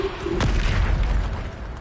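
A Bombarda spell bursts in Hogwarts Legacy, a single deep boom that rumbles and fades over a second or so, close and fairly loud with no voices.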